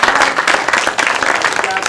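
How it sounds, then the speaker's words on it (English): People at a school board panel give a loud, close round of applause for the panelists, dense clapping from many hands with crowd voices mixed in. "I'd like for everybody to give them a round of applause."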